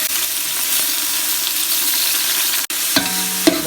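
Finely chopped tomatoes, half a kilo, sizzle steadily in hot oil for chicken biryani, a dense even frying hiss with a brief dropout near the end, then soft scraping stirs and a short tonal clink over the continuing sizzle.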